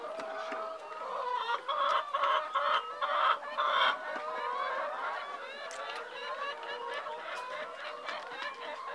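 Hens on a poultry farm cluck and cackle steadily at close range, a dense overlapping flock chatter, louder for the first few seconds and then settling into a busy constant murmur.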